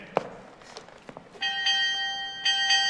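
A tower bell rings out on an opera stage, a few clear struck tones sounding after some soft knocks and thuds, fairly close and ringing alone.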